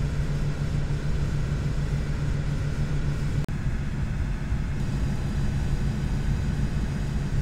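A Douglas DC-4 propeller airliner cruises in Flight Simulator X, a loud steady engine drone with a low throbbing hum running unbroken apart from one momentary dropout.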